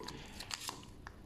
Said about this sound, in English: Scissors straight through.